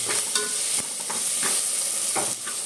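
Dal and tomato sautéing in a hot pan for dal fry, a bright hiss of sizzling under several quick scraping stirs, close and continuous.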